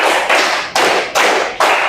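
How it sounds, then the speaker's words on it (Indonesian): A classroom of students claps together in unison, four or five crisp, loud group claps landing in a steady, quick rhythm with no talking. "Tepuk 5 coba."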